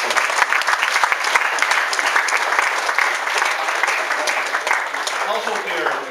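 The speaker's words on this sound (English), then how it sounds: "Please give a big warm round of applause for Jackie and for all the work." A prize night crowd at a cricket club applauds steadily, a dense, loud wash of clapping that holds evenly from start to finish without any talk over it.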